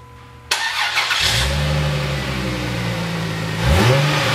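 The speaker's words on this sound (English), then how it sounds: "the engineers at Chrysler really took their time in producing the exhaust note for this car" A Chrysler Prowler engine fires up and revs, its deep exhaust note rumbling steadily, then swelling louder in a final rev near the end.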